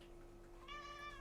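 A kitten gives one high, drawn-out meow, quiet and slightly distant, over a steady low background hum, with no voices.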